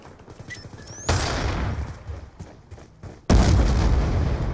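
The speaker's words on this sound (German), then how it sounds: "Schade, ich dachte, ich kann jemanden so killen, wenn ich das Auto zum Explodieren bringe." A car explosion in Black Ops 2 multiplayer: a loud sudden boom followed by a roaring rumble, with an earlier blast and crackling burst of gunfire before it, close and dominant over the game's ambient noise.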